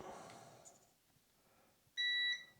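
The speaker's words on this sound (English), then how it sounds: "Small beep there, but that's all good." A single short, bright electronic beep from a multimeter continuity check on a 5-inch drone frame build sounds clearly after a near-silent pause, a steady tone lasting under half a second.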